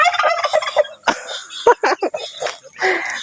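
A turkey gobbles close by in loud, rapid rattling bursts, with short pauses and throaty calls between them, and faint human voices nearby.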